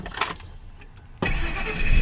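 A Ford F150 pickup truck engine cranks and catches, a brief quiet moment giving way to a loud, close start that settles straight into a rough, steady idle.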